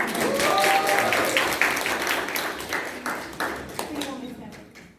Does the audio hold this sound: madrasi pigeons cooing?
no